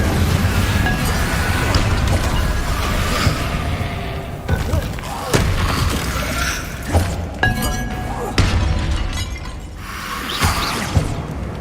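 Spell effects from the video game Hogwarts Legacy erupt in loud bursts, shattering, booming impacts and glassy crashes with sharp transients, ringing tones and brief gaps between hits.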